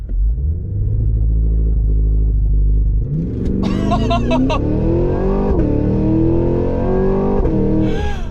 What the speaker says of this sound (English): You're gonna start to hear these backfires, then I'm gonna let off the brake and listen to this thing.